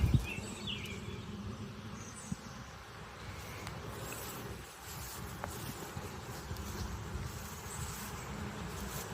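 Honeybee worker bees buzz steadily throughout an open hive inspection, a dense, continuous hum with no voices.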